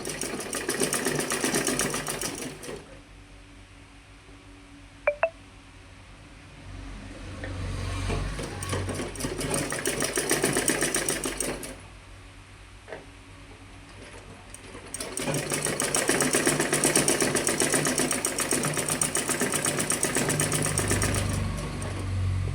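A sewing machine runs in long steady bursts while stitching a round neck facing on a garment, its fast even needle clatter loud and close and broken by two short quiet pauses.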